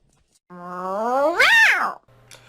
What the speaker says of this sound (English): Then the angry meow, but we only use this one on rare occasions